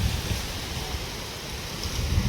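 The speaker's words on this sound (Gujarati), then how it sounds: "ફૂલ ફૂલ ઠંડો પવન વીરો છે" Strong wind rushes steadily past, a constant roaring hiss with gusty low rumbles buffeting the microphone.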